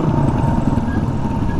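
Motorcycle engine running steadily at close range after a ride, a continuous loud low rumble with no pauses or talk, fitted with Nissin brakes.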